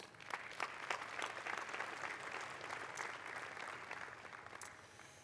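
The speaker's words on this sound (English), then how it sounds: "So let's have a very special round of applause for our Test Beds and Award jury, please." Audience applause at an IoT solutions awards ceremony, honoring the test beds award jury: a steady, moderately distant wash of many hands clapping that holds evenly throughout without a break.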